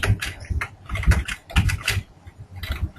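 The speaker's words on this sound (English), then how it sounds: "somebody's typing." Someone types on a computer keyboard during an online class session, quick irregular bursts of key clicks, close and clear, with no talking.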